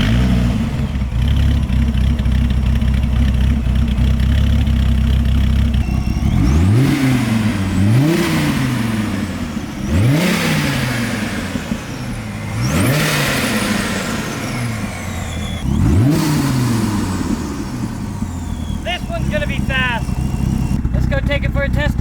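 An 800whp Dodge Viper with a Corsa exhaust barks through a series of loud, rising revs, five or six sharp throttle blips over a deep idling rumble, close and dominant.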